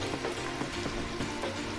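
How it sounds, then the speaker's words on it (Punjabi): Heavy rain falls outdoors over farmland, a steady close wash of dense patter with scattered drips, fairly faint overall and without any talk. "ਲਓ ਜੀ ਸਾਡੇ ਤਾਂ ਬਾਰਿਸ਼ ਪੈਣ ਦੀ ਹੈ ਜੀ ਫੁੱਲ"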